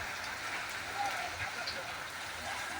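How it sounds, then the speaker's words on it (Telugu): Steady rain hiss over a four-road junction in Kalluru, a broad even wash of falling water at moderate level with no clear pauses. "వర్షం కురుస్తున్న దృశ్యాలు చూస్తున్నాం"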